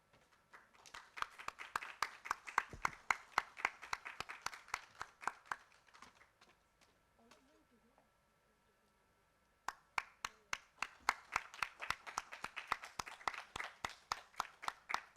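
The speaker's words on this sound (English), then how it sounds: "Let's give a huge round of applause for Mr." An audience at a panel session on animation claps in sustained applause, a steady patter of many hands that dies away into near silence midway, then swells up again loudly.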